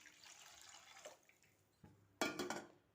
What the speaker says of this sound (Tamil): 3 டம்ளர் தண்ணி சேர்த்துக்கலாம்.